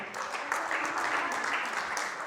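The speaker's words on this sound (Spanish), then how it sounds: "Denle un fuerte aplauso al Señor." Church congregation clapping loudly in praise, a dense, steady burst of applause filling the room throughout.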